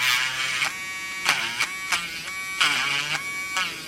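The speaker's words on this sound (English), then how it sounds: "I'm cutting this huge hole into the machine" A Dspiae portable electric grinder cuts a hole into a plastic model part, its steady high-pitched whine running close and loud, dipping and rising in short bursts as the bit bites and eases off.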